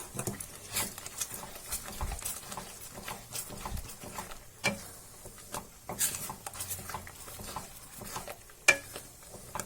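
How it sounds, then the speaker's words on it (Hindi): Paneer butter masala being stirred in a pan after fresh coriander goes in, with a spoon scraping and clinking against the pan at an irregular rhythm over a soft sizzle, close up. "अब इसमें हम हरा धनिया डालेंगे। इसे भी चला लेंगे।"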